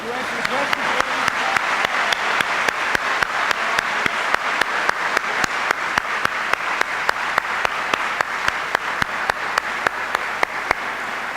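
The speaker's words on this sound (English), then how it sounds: "Let's give him a round of applause" Sustained applause from an audience fills the room, with a run of sharp rhythmic claps steadily punctuating the crowd's clapping throughout.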